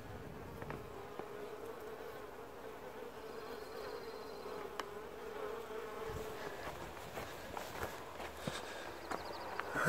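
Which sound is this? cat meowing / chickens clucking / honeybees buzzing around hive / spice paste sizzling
honeybees buzzing around hive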